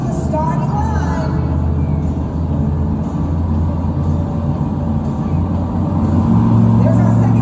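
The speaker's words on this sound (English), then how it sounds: "You hear that engine revving as he's approaching the starting line." A monster truck's steady, loud engine rumble runs throughout at a Monster Jam show, holding a deep droning tone with a slight rise in intensity toward the end as it approaches the starting line.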